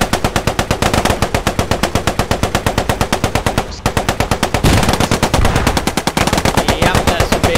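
A Cromwell tank's machine gun fires in the video game Post Scriptum, rapid continuous bursts of loud, close gunfire with a brief pause near the middle, and faint voices underneath.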